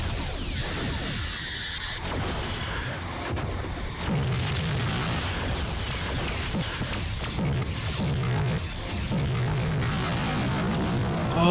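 Starship weapon beam fire in a Star Trek starship combat game as a Cardassian Bakras battles the USS Kyoto, a sustained rumbling roar with booming bursts and whooshes running the whole time.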